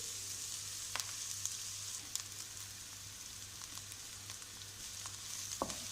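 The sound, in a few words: onions frying in a pan with garlic and ginger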